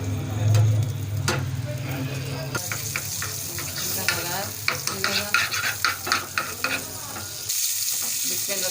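Butter tempering (baghar) poured over lentils crackles and sizzles in the pan, with a burst of spitting and popping in the middle; a hum opens the clip, and a brief voice may be present.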